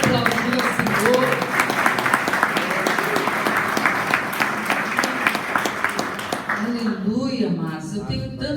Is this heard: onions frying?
no